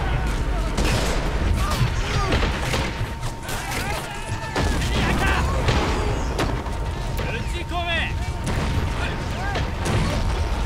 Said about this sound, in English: Oh, sweet, my howitzer's firing now